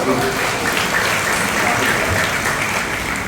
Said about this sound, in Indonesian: Jadi selamat buat Kanian dan Kanian, tepuk tangan buat mereka.